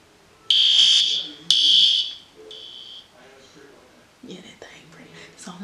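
Two short piercing alarm beeps sound loudly in succession, followed by fainter tones and quiet whispering.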